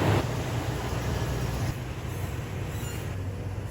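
A first-generation Toyota Sequoia SUV backs slowly into a garage, giving a quiet, steady low engine rumble throughout with no talking.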